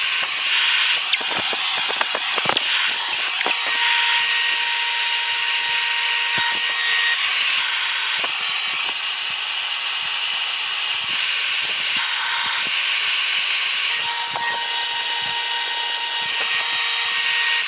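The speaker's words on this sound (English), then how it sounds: "Then I'm gonna turn on the blower and hit start. There's the blower." The air assist blower on a laser engraver with a rotary attachment runs while a tumbler is engraved, making a loud, steady hiss with occasional faint clicks and ticks throughout.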